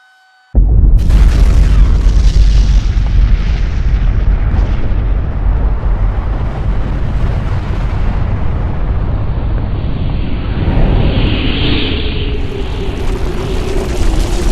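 A massive explosion in Chicago bursts in suddenly after near silence, a deep booming blast followed by a long rumbling roar and debris noise that slowly thins out.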